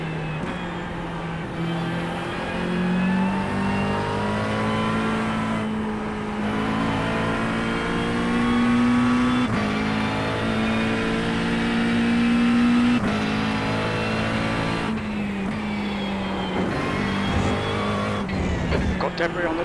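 Race cars lapping Suzuka in a racing video game, a continuous loud engine whine with shifting pitch as gears change and cars pass, with a voice talking over it at times.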